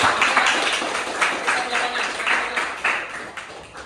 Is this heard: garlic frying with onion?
no